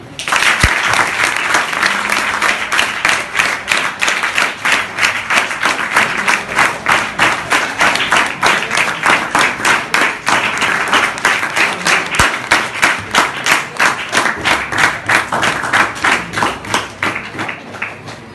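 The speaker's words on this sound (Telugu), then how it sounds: "అందరు గట్టిగా క్లాప్స్" Students and staff at a career guidance event clap in unison, a long, loud run of rhythmic synchronized applause with steady regular beats that fades slightly near the end.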